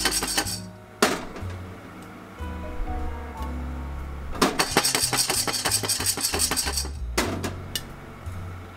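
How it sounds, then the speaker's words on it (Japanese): Guatemala coffee beans pan-roasting at home reach first crack: scattered sharp pops and snaps, which quicken into a rapid burst over a low background hiss, with occasional clatter from a pan lid. "今のパチッっていう音が市ハゼの音です"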